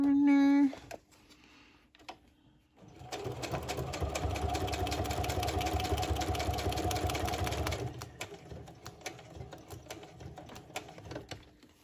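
Sewing machine straight-stitching through layered paper on a December advent tag, a steady rapid mechanical whir running for about five seconds after a brief voice and pause, then fading into light handling clicks.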